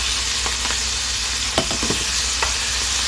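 Thinly sliced beef, soaked in oyster sauce, sizzles steadily as it is sautéed in a pan, with a few soft clicks of a spatula stirring through a constant close hiss.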